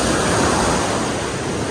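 High ocean waves break on a beach at Carillon Beach, a loud continuous wash of surf with wind noise on the microphone, with no talking.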